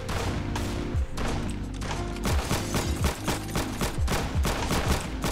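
Gunfire from a gun in the Roblox shooter Arsenal: a fast, loud series of sharp shots, many evenly spaced, with thumping low-end kicks, close up and with no talk over them.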